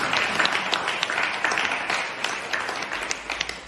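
Congregation at a church Mass for the Feast of St Joseph clapping together, a dense sustained round of applause from a crowd that tapers slightly toward the end.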